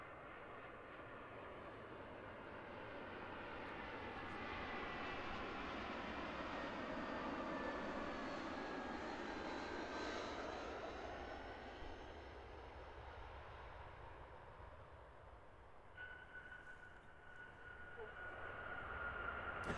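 A distant Air New Zealand passenger jet, flight NZ523, rumbles in to land at Christchurch Airport, its roar swelling slowly then fading, faint against the open-air background.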